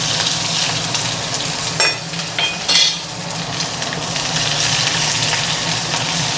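Onion, chili and garlic sizzle in hot oil with black cumin, a steady close frying hiss with a few brief scraping stirs partway through.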